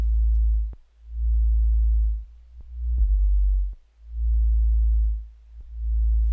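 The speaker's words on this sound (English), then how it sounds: "The sub was made using wavetable, and it looks like we've really utilised the richness of those sine waves" Wavetable synth sub bass built from sine waves, a deep sustained tone swelling in long repeated pulses with brief dips between them and a few faint clicks, playing alone.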